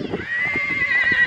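Horses at a barn whinny and call out, one clear, loud, sustained neigh carrying across the clip with faint hoof and stable noise beneath.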